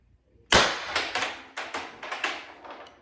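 One sharp crack from a paintball marker fitted with a Pistelle X.68 comp barrel, followed by a run of fading echoing knocks and rattles. It sounds close, with no talking.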